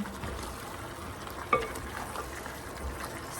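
Garlic, ginger and onion sauté in a pan for sinigang, giving a steady, soft, close sizzle with one brief clink partway through.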